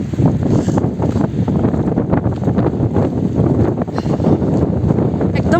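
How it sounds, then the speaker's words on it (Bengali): Strong mountain wind buffets the microphone in a continuous, loud roar with gusty surges throughout, at Bagori village in the Harshil Valley beside the Bhagirathi River. "বুঝতে পারছেন কীরকম হাওয়া দিচ্ছে"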